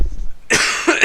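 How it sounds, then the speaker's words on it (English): A person with an irritated throat lets out a close, harsh cough in a couple of quick bursts after a quiet moment. "I keep having to cough when I talk"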